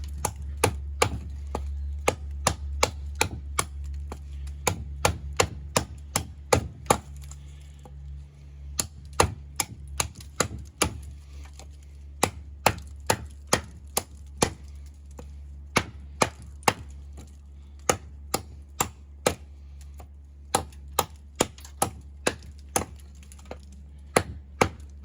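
Eafengrow EF134 fixed blade knife chopping wood, a long run of sharp, close, steady strikes with brief pauses, over a low constant hum.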